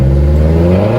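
Mazdaspeed 3 engine revving hard through a louder aftermarket exhaust from the muffler shop, a steady close, loud growl with strong low harmonics held for about a second.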